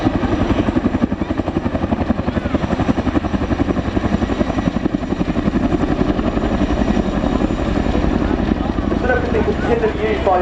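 An Air Force battlefield helicopter flies at the RIAT airshow, its loud, steady rotor thump and engine drone running throughout, with a voice talking over it.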